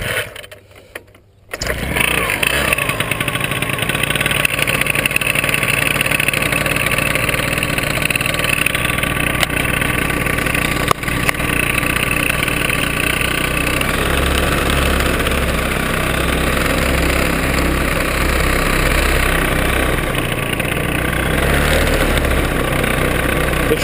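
A small paramotor engine starts after a brief quiet moment, then idles steadily while warming up, with a loud, even droning hum and vibration throughout, at an aerodrome.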